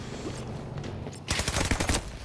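A mounted gun firing in Battlefield 2042, a rapid burst of loud, cracking automatic fire that breaks out suddenly after a quieter stretch of ambient battle noise.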